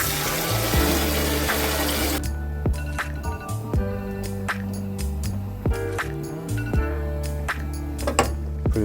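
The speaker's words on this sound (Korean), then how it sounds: "이제 계란을 까야 되기 때문에 이렇게 찬물을 좀 닫아주시면" Cold water gushes from a tap over boiled eggs in a pot, starting as a loud rush that thins to a trickle and splashing, broken by light clinks and taps.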